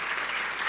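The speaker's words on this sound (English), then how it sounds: "Let's give them a warm round of applause, everybody." Brief burst of audience applause for two presenters at a tech talk about FinOps and sustainability, a soft, steady patter of many hands at moderate distance with no voices over it.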